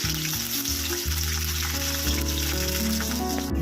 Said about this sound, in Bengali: এগুলো এবার আমি ছাঁকা তেলে ভেজে নেবো।